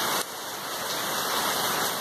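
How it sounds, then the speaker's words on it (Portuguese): Heavy rain pours outside a house doorway in Divinópolis, a dense, steady roaring hiss of downpour and running water that stays loud and even throughout. "Uma chuva gostosa aqui em Divinópolis."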